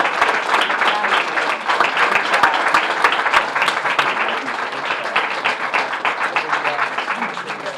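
A crowd at a press event claps in a sustained, fairly loud round of applause with sharp individual hand claps popping out of the dense patter, and voices mingle faintly beneath it.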